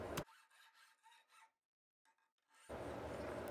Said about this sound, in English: that groove is just deep enough to hold the lead screw in position while I continue filing